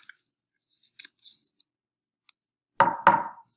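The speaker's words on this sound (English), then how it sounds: "Knock, knock. Who's there now?" Two firm knocks on a door, close and fairly loud, come in quick succession near the end, after a few faint clicks and rustles.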